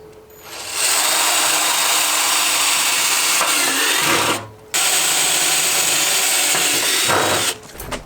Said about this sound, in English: I'm gonna go ahead and start drilling some pilot holes with these on here